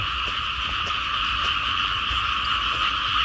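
Frogs croaking loudly across rice fields, a dense continuous chorus of overlapping calls with steady rhythmic pulsing, loud and near, with no voices.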